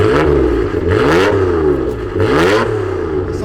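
A Nissan R34 running an HKS RB26 engine with upgraded cams revs loudly and close by, its pitch climbing and falling in repeated rising sweeps over a rough, throaty idle, with no voices.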